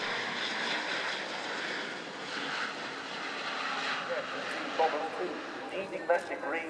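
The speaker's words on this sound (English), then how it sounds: "The first Royal Air Force A400M was delivered in May." An Airbus A400M military transport aircraft flies a display at an air show, its propeller engines a steady distant drone beneath continuous commentary.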